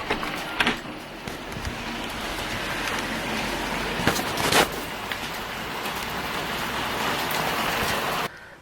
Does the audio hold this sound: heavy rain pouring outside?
yes